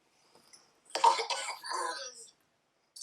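One person gives a short burst of coughing, close to the mic and moderately loud, followed by a rougher throat-clearing stretch, set against near silence.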